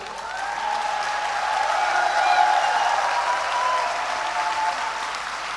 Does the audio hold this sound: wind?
no